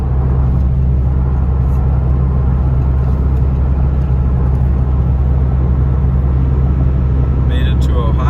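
A Ram 2500 pickup with a 6.7 Cummins diesel drives on the road after leaving a Love's travel stop, giving a steady, loud low rumble of engine and road noise throughout, with a brief whir near the end.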